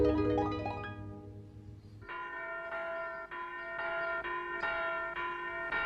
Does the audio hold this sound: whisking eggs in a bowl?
no